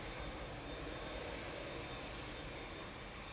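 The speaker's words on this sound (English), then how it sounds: "Classic Lufty landing in the background, coming in from Frankfurt" A Lufthansa airliner arriving from Frankfurt comes in to land at Manchester Airport, heard as a constant broad engine roar that holds steady throughout, filling the background with no voices.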